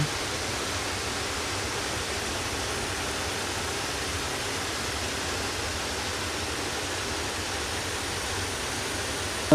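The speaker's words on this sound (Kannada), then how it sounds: "ಅಲೆಗಳು ಮಾತ್ರ ಸಿಕ್ಕಾಪಟ್ಟೆ ಬರ್ತಾನೆ ಇತ್ತು." Sea waves breaking on a beach about 5 km from Mangaluru, heard as a continuous, even wash of surf noise that stays loud and unbroken for the whole stretch, with no voices.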